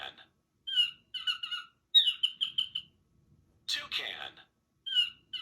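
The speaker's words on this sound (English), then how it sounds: "Toucan." Toucan calls in a jungle setting: several short bursts of bright chirping and croaking notes in rhythmic groups, separated by brief silences, moderately close and alone.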